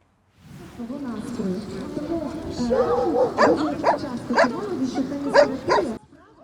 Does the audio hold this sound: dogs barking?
yes